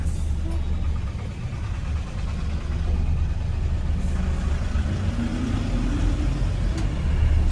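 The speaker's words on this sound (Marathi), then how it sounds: "कर्नाटकवाल्याची बस कसं आहे" A bus on a road in Karnataka amid traffic, heard as a steady low engine rumble with constant road noise that swells slightly toward the end.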